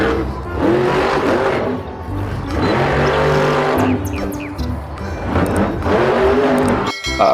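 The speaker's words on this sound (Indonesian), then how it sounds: "Wih, ada mobil monster." A toy monster truck makes engine revving sounds in surges that rise and fall, loud and close, with brief squeal-like bursts between the swells.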